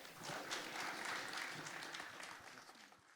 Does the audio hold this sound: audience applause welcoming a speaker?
yes